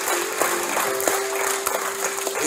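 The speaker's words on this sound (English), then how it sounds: "Would you clap your hands with me" Congregation at a revival service clapping their hands in praise, steady overlapping claps with sharp individual hits and a faint sustained tone beneath, no speech.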